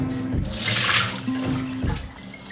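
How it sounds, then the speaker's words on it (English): Soaking water pours and splashes steadily close by as it drains from rice, a continuous rushing stream, with no voices. "So 30 minutes later, we're gonna drain the water first."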